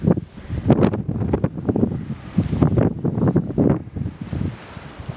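Strong gusts ahead of Hurricane Leslie buffet the microphone outdoors, coming in rough, uneven low-pitched bursts that swell and drop in close succession, with no speech.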